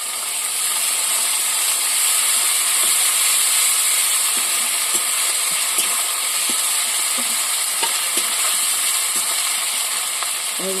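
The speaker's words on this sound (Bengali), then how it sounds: "এবার আদা বাটা দেবো।" Ginger and green chili paste sizzles with garlic in hot oil in a pan for a Bengali fish curry with potato and eggplant, a steady loud hiss broken by faint scraping stirs.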